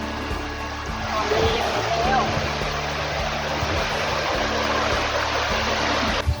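Nam Dee waterfall in Luang Namtha, Laos, rushing steadily as a broad continuous roar of falling water, with faint background voices and a brief louder knock near the end.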